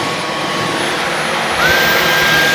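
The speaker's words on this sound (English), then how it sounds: "now when I pull the trigger, the vacuum cleaner part's going to kick on" Dyson V15s Detect cordless vacuum cleaner running steadily in auto mode, a loud close motor whine that rises in pitch and volume partway through as the suction adjusts.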